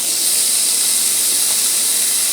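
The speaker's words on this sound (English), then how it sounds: "I'm going to put my steaks in salt and pepper side down and salt and pepper at the top" Steaks searing without oil in a hot Copper Chef pot produce a loud, close, continuous hiss of steam and sizzle that holds steady throughout without a break.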